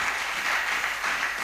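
A church congregation bursts into applause, a dense, even wash of many hands clapping together, loud and close throughout the short burst.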